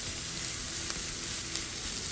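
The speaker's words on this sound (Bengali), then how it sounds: "এবার খুব ঝটপট এটা আবার ভেজে নিব।" A mash of green banana and eggs fries in a pan, giving a steady, close sizzle that runs unbroken with no talk.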